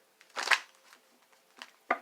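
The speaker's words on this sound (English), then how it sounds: "let me shuffle these up real quick." Tarot cards being shuffled by hand, a few soft riffling bursts close by, with short gaps between them and quiet in the background.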